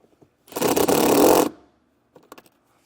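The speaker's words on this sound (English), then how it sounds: "So we'll take our self-tapping screw, put it in this foot, and then get it screwed to our firewall." A power driver runs a self-tapping screw into an RV firewall while mounting a Demco Air Force One flat tow brake system, one loud close whirring burst of about a second, followed by faint clicks.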